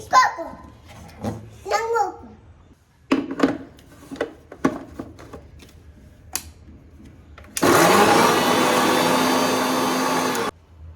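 A mixer grinder blends a thick homemade hair-care paste without water, roaring in one loud, steady burst of about three seconds. Before it starts, an adult and someone talk, with clatter from the kitchen.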